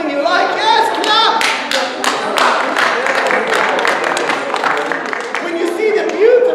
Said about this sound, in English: when you see something you like, yes, clap!